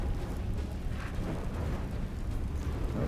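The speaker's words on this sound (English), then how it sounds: "then we blast. Eldritch Blast." Eldritch Blast spell cast in Baldur's Gate 3 gives a dense, roaring magical rumble that holds loud and steady for about three seconds with no talk over it.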